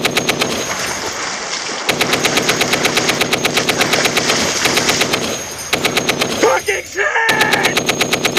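Sustained automatic gunfire rattles in rapid, evenly spaced bursts, loud and close, with brief gaps and a shouted voice breaking in near the end.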